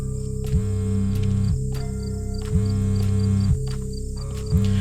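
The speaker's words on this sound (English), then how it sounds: "it's a sound of a vibrating cell phone" A vibrating cell phone in the video game DreadOut buzzes in repeated short bursts of vibration, evenly spaced, over a constant electronic drone.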